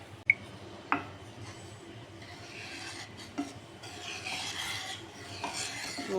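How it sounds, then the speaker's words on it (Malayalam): Beetroot halwa with sugar and cardamom being stirred in a pan, giving soft scraping and rasping strokes with a few sharp spoon knocks near the start, close and fairly quiet, with no voices. "നമുക്കിത് കൈവിടാതൊന്ന് ഇളക്കിക്കൊണ്ടിരിക്കാം"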